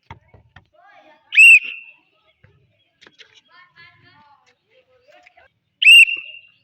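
A referee's whistle at a football game blows two sharp, loud blasts several seconds apart, with faint voices and background noise between them.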